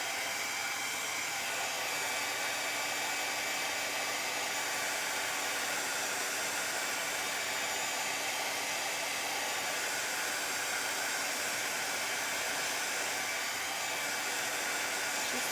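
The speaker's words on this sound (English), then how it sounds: "heat gun on it real quick" A heat gun blows hot air steadily over stencil paint on a Christmas craft piece, a constant loud whooshing hiss that runs unbroken with no talking.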